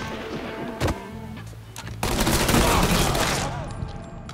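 Gunfire in Mafia 3 Definitive Edition, starting with a few sharp separate shots and then a dense, sustained burst of rapid fire over background game noise.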